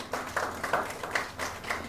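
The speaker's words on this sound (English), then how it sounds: "So a big round of applause for NAC." An audience applauds at a humanitarian award ceremony for women, the clapping steady, soft and somewhat distant, with fainter voices mixed in.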